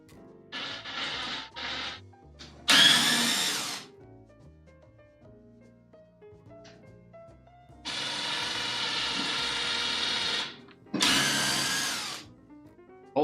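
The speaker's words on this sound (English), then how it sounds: "go ahead and drill 2 holes" A power drill bores holes in lumber during a storage-rack build, with several whirring bursts of varying length, near and loud, separated by quiet pauses and small handling noises.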